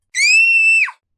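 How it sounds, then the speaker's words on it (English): The boy Dudley lets out one loud, shrill scream that holds steady for about two-thirds of a second and then breaks downward at the end, heard alone and close. "Dudley screams."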